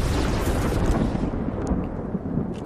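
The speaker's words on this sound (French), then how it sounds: "l'éclair de Zeus, j'ai le droit ou pas?" A Zeus lightning strike in a car-challenge video game: a loud, continuous thunderous rumble with a crackling edge, sustained throughout and fading slightly toward the end, with no talk.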